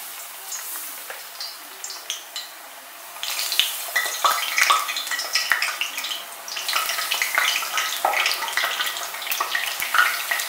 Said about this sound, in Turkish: Şimdi kızgın yağın içerisine patlıcanlarımı atıyorum.